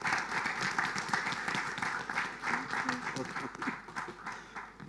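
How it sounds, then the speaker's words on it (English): Conference audience applause fills the room as a dense, steady patter of many hands that continues throughout, with voices mixed in. "A round of applause"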